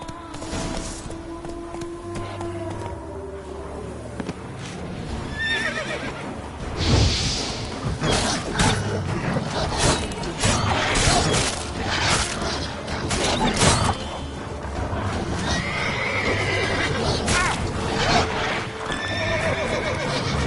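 Horse in The Witcher 3 video game trotting with steady clip-clop hoofbeats, neighing and whinnying loudly partway through, over game ambience and occasional whooshes, with no talking.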